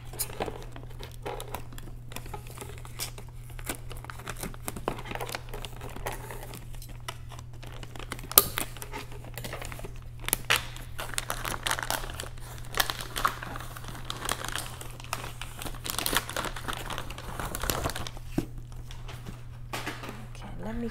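Packaging from a Hermès notebook box crinkles and rustles as it is cut open and handled with scissors, giving a steady stream of small close crackles and taps, with a person talking intermittently.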